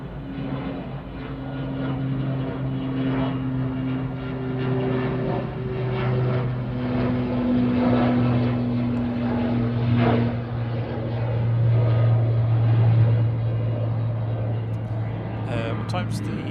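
A Loganair propeller airliner departing Manchester Airport for Inverness, its steady droning engine hum with tonal propeller whine sustained throughout, moderately distant, while a person talks over it.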